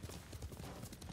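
Rapid, steady clip-clop of horse hooves in the video game Ghost of Tsushima, fairly quiet and close, in an even trotting rhythm.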